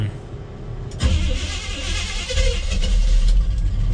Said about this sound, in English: it was really hard starting it last time, so we'll see